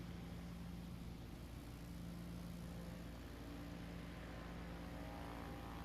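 Steady propeller drone of a STOL airplane taking off during Rocky Mountain STOL practice at Pinedale, Wyoming, a constant moderately loud engine hum with no talk.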